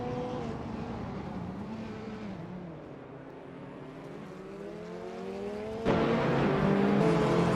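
TCR touring cars, including a 2016 Opel Astra TCR, race around Cadwell Park, engines droning and shifting pitch as they sweep past, then a louder car surges in close near the end.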